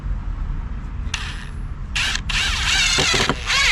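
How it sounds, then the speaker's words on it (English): An impact driver sinks decking screws into wood, its rapid ratcheting hammer bursting in several close, loud runs separated by short pauses. "Take the impact driver"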